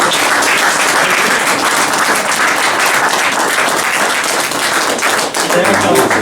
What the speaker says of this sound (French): Je pense qu'on peut encore vous applaudir une fois parce que c'est beaucoup de travail.